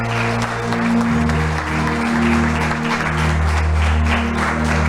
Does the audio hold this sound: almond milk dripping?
no